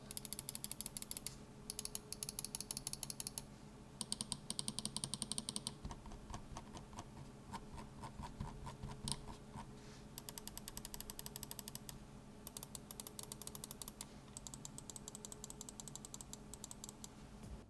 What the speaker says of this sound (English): so here's a listen to all the buttons.